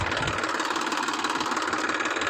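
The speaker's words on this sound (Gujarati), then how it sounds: "તો જો ફાઇનલી આપણું ટ્રેક્ટર આવ્યું છે." A tractor engine running at a steady idle, a continuous rough rumble with a fast knocking pulse, close and unchanging over a short stretch.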